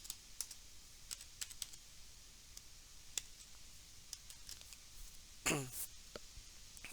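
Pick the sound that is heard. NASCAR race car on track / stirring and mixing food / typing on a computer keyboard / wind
typing on a computer keyboard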